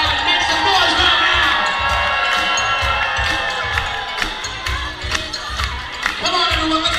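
Wedding guests cheer loudly on the dance floor, a dense crowd roar with whoops and shouts over a thumping beat, continuous throughout.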